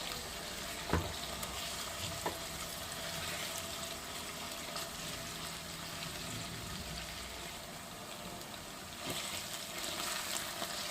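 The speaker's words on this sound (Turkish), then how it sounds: "Onda kokusu çıkana kadar kavuralım. bol soğanlı çok güzel oluyor." Onion and tomato paste fry steadily in a pan for stuffed peppers, with a soft continuous sizzle, faint stirring scrapes and a couple of brief clinks, at a low, even level with no talk.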